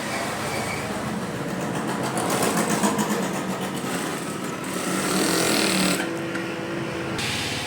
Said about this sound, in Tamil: இப்போது நம்ம இதை சுற்றி வந்து நம்ம லைனிங்கில் தையல் போட்டுக்கலாம்.